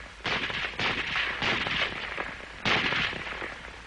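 An M1 Garand semi-automatic rifle fires several loud, sharp reports in an irregular sequence, each followed by a brief ringing tail, with no voices.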